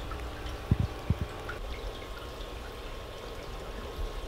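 Water dripping from an elbow fitting on the drip line of an aquarium rack system: a few soft separate drops near the start over a steady low wash of background water noise.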